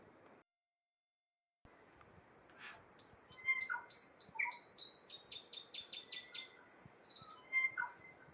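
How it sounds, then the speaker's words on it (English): A New Zealand saddleback (tīeke) calls in a rapid series of bright, repeated chirping notes, fairly near and clear, after a short silent gap. "Here's the saddleback, Tiake."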